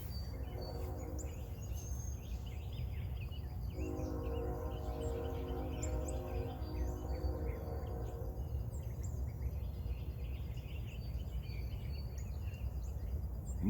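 Birds chirp and call in short bursts outdoors over a steady low rumble of a train passing in the distance.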